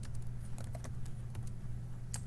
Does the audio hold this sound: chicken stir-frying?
no